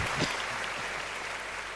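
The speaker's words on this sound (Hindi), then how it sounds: "तालियां बजा सकते हो आप।" Audience applause at a Hindi comic poetry gathering (hasya kavi sammelan), a dense burst of clapping that fills the short moment at steady strength.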